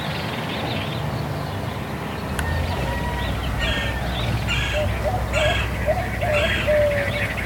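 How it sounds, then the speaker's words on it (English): White-winged doves call in a repeated cooing series through the middle distance in a backyard in Baja California, over steady outdoor background noise, with other birds faintly audible. "You can hear the white-winged doves calling now."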